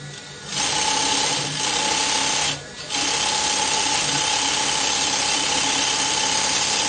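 A sewing machine stitches a danshiki with a steady, close, whirring drone and a constant mechanical hum, broken by a brief pause before it runs on evenly.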